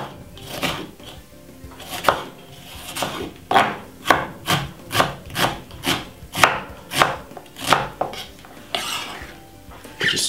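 Spring onions and half a white onion chopped with a knife on a wooden board, a steady run of about a dozen sharp, close, evenly spaced chops with faint rubbing between strokes.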